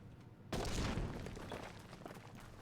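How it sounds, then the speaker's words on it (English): In a video game boss fight, an explosion hits as a sudden loud burst, then trails into a sustained, noisy rumble that slowly eases off. "Explosion."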